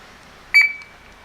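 A single short electronic beep from a Honda snow blower's alarm system rings out clearly against near silence, then fades quickly.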